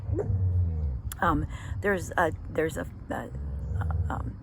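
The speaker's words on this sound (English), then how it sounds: "sorry, my dog is acting up." A dog barks and whimpers in short yips behind a speaker during a lecture on abnormal psychology, the bursts close and fairly loud, mixed in and overlapping with the talking.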